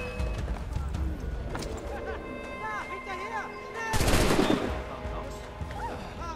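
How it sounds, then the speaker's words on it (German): Gunfire from the video game Assassin's Creed III cracks out amid game ambience with horses and background voices, and a loud burst rises in the middle of the clip. "Auf wen haben die geschossen?"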